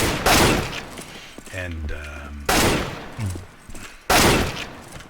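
Bursts of rapid gunfire in a shooting video game on the Aim Botz training map, three loud clustered volleys at regular intervals, with someone talking in the gaps between them.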